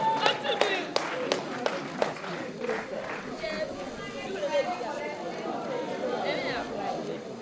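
Audience applause at a journalism awards ceremony, sharp claps scattered at the start and thinning into a busy crowd murmur and chatter that runs throughout the room.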